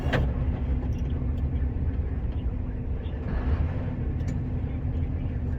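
On an icy, slippery winding road, a car passes a Scania R560 truck, its noise blending into the steady, loud rumble of the truck's engine and road roar, with no clear talk.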